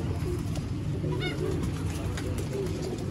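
Pigeons coo softly a few times over a constant background rumble, with a faint chirp or two near a pigeon loft.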